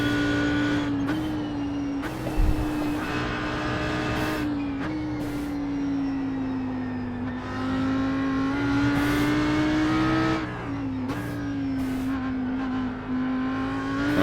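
An Audi R8 GT3 race car laps the Nürburgring in the iRacing sim, its engine droning steadily near and loud, rising and falling through gear shifts with brief lifts under braking, heard alone without talk.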